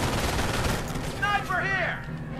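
Gunfire in the WWII strategy game Company of Heroes during the Carentan battle of the Normandy campaign, a dense continuous crackle of distant shots with in-game radio voices over it.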